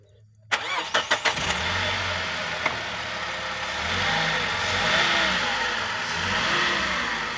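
A 2010 Toyota Grand Cabin van cranks in a few quick turns and catches, then settles into a steady mid-pitched idle with gentle rises in engine speed, heard up close.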